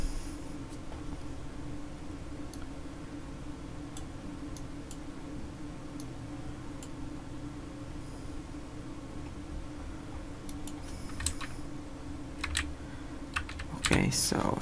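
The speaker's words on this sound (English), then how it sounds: "okay, so let's type in here." Faint, scattered clicks of typing on a computer keyboard under a steady low hum, the keystrokes irregular and quiet, with a louder cluster of taps near the end.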